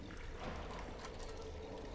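Wading through infected water in the video game No More Room In Hell, a soft continuous splashing and trickling that is faint and brief.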